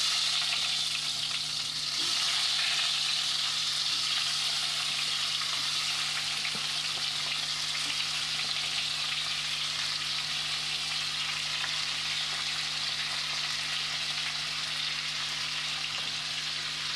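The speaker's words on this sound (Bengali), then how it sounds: "এবার শসাগুলোকে আমি ভালো করে একটু ভেজে নেব।" Cucumber pieces for a Bengali cucumber curry fry in hot oil with a steady, loud, even sizzle and a few faint stirring clicks. No one speaks.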